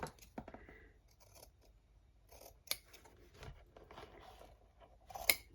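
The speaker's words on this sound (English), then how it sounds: "Trim your ends, and that's your little bow on the side." Scissors snip through the ribbon ends of a tied bow, a few quiet, close clips and crisp cuts spaced out over a few seconds, with no talking.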